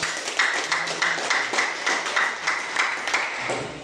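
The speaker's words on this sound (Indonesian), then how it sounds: "Nah, tepuk tangan dulu Kak." Students in a classroom clap their hands together in a steady, patterned rhythm, crisp and close, repeating regular beats throughout.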